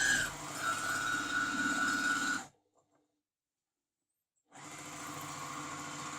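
A semi-industrial straight stitch sewing machine runs fast on fabric in a steady, close mechanical whir, stops for about two seconds of silence, then starts up and stitches again.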